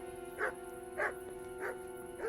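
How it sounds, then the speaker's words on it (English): Four evenly spaced barks from a dog in the medieval game Kingdom Come: Deliverance, moderately close over a quiet steady background hum, with no talking. "Shut up, dog."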